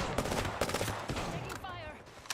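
Gunfire in the battle royale shooter Apex Legends, with rapid, fairly loud shots clattering throughout under faint speech.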